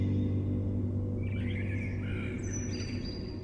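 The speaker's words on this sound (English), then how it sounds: "which might be the birds that we hear" Birds chirping at pre-dawn in a House of the Dragon scene, faint tweets and brief calls drifting over a steady low hum, with a higher whistling note near the end.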